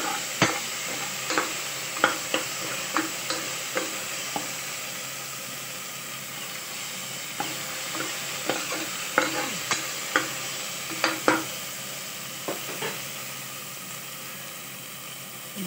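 Ginger-garlic paste and onions fry in a cooker while being stirred, with a steady sizzle under repeated scraping and clicking of the spoon against the pot, close and without talk.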